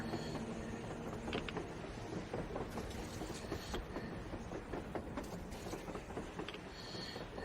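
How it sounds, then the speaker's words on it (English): A train in the video game Metro Exodus, heard as a continuous rumbling rattle of wheels and cars with clicking and clatter, steady and fairly close for the whole stretch. "A train! A damn train on the surface!"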